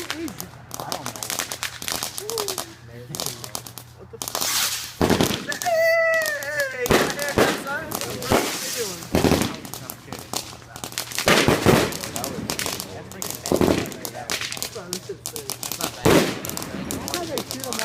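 New Year's fireworks going off in repeated sharp cracks and bursts, some close and loud, with a whistling rise near the middle, while people shout and talk excitedly throughout.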